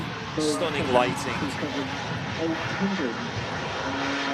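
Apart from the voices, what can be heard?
Airbus A380 airliner at Manchester Airport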